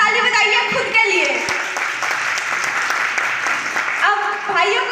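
An audience of women at a business-plan seminar applauds themselves, dense and loud clapping that swells and fades over a few seconds, with voices and cheers mixed in.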